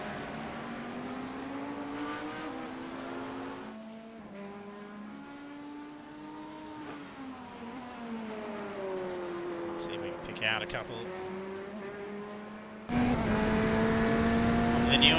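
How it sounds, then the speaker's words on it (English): GT3 race cars lapping the Catalunya circuit in the iRacing simulator, engines droning and shifting pitch steadily under a commentator's voice, with a louder, brighter engine roar cutting in near the end. "hear the sound of the cars"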